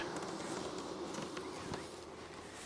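A steady, dense insect buzz of honeybees around their hive fills the air, many bees humming close by, continuous throughout with faint rustling beneath.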